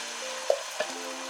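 Red Scotch bonnet pepper mix blended with ginger and garlic frying in a pan for a Ghanaian fish stew, a soft steady sizzle with two brief stirring clicks.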